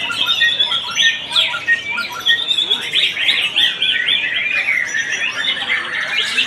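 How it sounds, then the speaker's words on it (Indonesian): A white-rumped shama sings continuously and loudly up close at a songbird contest, with rapid varied chirps, whistles and squawky phrases tumbling over one another. "Murai Batu Junior Kasa"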